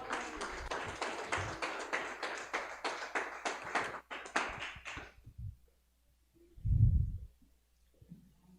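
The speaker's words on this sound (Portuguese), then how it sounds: "Vamos aplaudir bem forte o nome do Senhor" A church congregation claps in rhythmic, steady bursts for about five seconds, then the clapping stops and leaves quiet with a soft thump.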